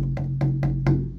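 Four low, boomy frame drum strokes played too low on the drumhead, in a steady, slow pulse, each with a deep resonant thud and a short ringing tail.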